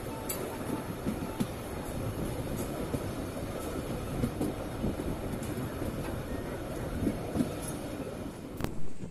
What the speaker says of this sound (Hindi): so guys, train just Degana से डिपार्चर ले चुकी है